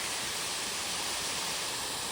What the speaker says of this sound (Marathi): इथे जो मेन धबधबा आहे, मोठा धबधबा नापणे शेरपे धबधबा, तो इथे आहे.